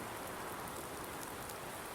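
Steady rain pours in Farming Simulator 19, a continuous even hiss with dripping from a leaking roof blended in, filling the scene with no voices.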